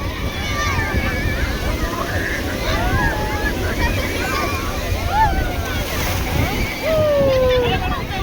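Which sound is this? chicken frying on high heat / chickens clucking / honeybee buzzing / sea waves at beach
sea waves at beach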